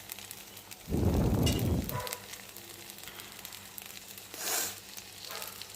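Pancake-like vegetarian breakfast batter hits hot oil in a pan with a loud burst of sizzling and crackling that lasts about a second, then fades to a faint background hiss.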